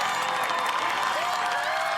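A crowd at an American Ninja Warrior course cheers and applauds loudly and steadily for a competitor stepping onto the I-beam, with a continuous roar of voices and clapping.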